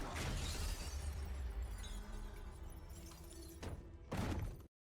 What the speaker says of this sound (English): her father is shot against the mirror, breaking it.